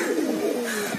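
A Borderwale pigeon gives a single soft, close coo, alone and clear.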